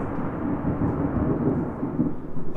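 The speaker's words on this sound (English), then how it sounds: "It's been a crazy thunderstorm so far today, this afternoon." Thunder during an afternoon thunderstorm: a low, continuous rolling rumble, moderately loud and sustained throughout, with no voices.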